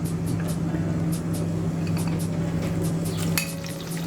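Crushed spice mix drops into hot coconut oil and sizzles steadily, with regular scraping strokes of a spoon against the pan over a constant low hum.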